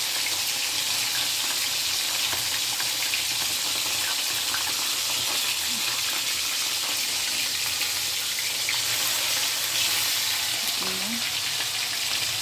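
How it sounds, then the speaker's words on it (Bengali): Fish pieces frying in hot oil give a loud, dense, continuous sizzle and crackle that stays close and steady throughout, with no talk over it. "অল্প অল্প করে আগে ভাজা নিই"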